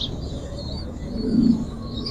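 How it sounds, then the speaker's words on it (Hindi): Teddy breed pigeons kept by a breeder in Rawalpindi give a soft, low coo swelling once near the middle, with faint chirps and light background noise around it. "ये कौन से कबूतर हैं?"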